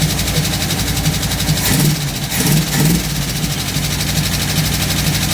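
A 1958 Chevrolet Biscayne engine idles steadily after a carburetor rebuild, a constant close-up rumble with a brief rise in the middle before settling back to an even idle.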